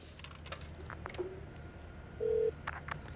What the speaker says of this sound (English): So we got to call the number 8375644.